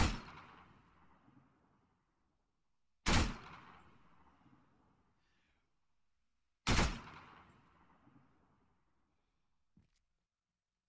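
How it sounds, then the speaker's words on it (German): Gunfire in the military shooter game Arma 3: three loud, sharp single shots spaced a few seconds apart, each followed by a long echoing tail, then a faint distant pop near the end. "Schüsse kommen ja auf mich."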